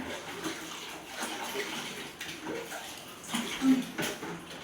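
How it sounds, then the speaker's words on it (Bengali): Thin stream of water trickling from a weak household tap, a steady close splashing patter with faint surges, no voices over it. "জল একদম পুরো সরু হয়ে জল পড়ছে, কেমন জল পড়ছে তাহলে বুঝতে পারছো কলে আমাদের।"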